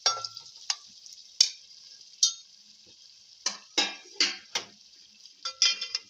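Prawns stirred into a tomato masala in a pan: a steady thin sizzle runs underneath while a spatula knocks and scrapes the pan in irregular sharp clatters, close and distinct, with no talking.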